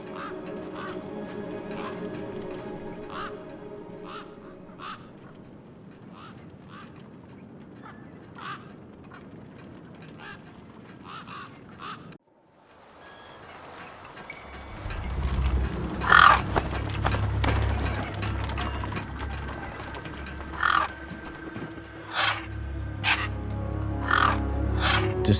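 Scavenger birds calling across a wasteland in the video game Beyond a Steel Sky: a series of repeated harsh caws, first over quiet ambience and then over a louder low rumbling background.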